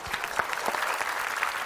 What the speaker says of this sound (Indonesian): Tompi silahkan lu tepuk tangan buat Tompi lo